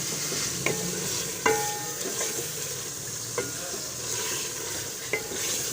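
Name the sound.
onions frying in a pot for chicken curry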